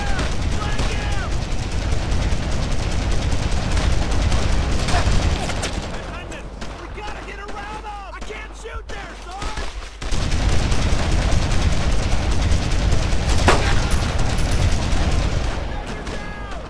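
Dense, sustained gunfire from World War II infantry combat in Brothers in Arms: Road to Hill 30, loud overlapping rifle and machine-gun shots with shouting voices, easing slightly midway before resuming at full intensity.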